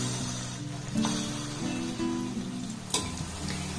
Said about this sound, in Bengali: এবার বড়ার শেপ দিয়ে যেগুলো আমি বানিয়ে নিলাম সেগুলো এই তেলের মধ্যে দিয়ে ভেজে নেব।